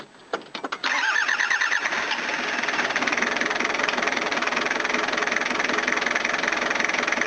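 A diesel engine with a freshly repaired starter cranks in a quick burst of sharp knocks, then catches and settles into a loud, steady rattling idle that continues to the end, with no talking.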